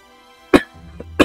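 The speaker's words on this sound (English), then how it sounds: "Making these voices just automatically trips off my coughing reflex." Two sharp, close coughs about half a second apart, with a faint low hum and brief rustle between them.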